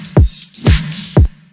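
Loud deep house/future house drum mix, kick and snares with hat loops and tambourine layered on top: three thumping hits in a steady groove over a constant bright hiss and a low sustained tone, with no voices.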